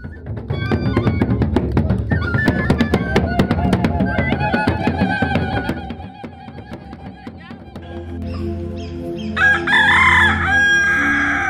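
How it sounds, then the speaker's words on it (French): A rooster crows at dawn in a village after a night of funeral rites, its call rising loud near the end after a stretch of other dense, rhythmic sound. "le chant du coq annonce un nouveau jour."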